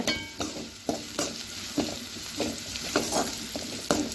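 Chilli powder is stirred into a sizzling green chilli mixture in a pan. A continuous fry hiss is broken by repeated spatula scrapes and knocks at a loose, uneven rhythm, with no voices.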